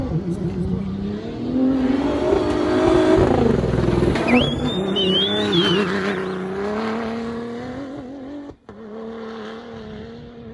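A Ford Ranger Raptor pickup's engine roars and revs while driving off-road over rough ground, rising and falling in pitch, with a brief squeal midway.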